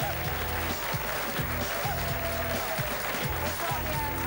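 A studio audience applauds as a singer is welcomed onto a French television talk show, a dense, steady wash of clapping lasting the whole moment over a rhythmic musical backing.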